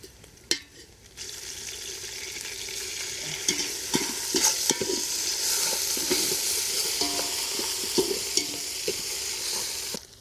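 Ginger garlic paste fries in a pan for Malnad-style chicken kurma, a strong continuous sizzle with spatula scrapes and stirring clatter, starting after a brief quiet moment and staying loud and close.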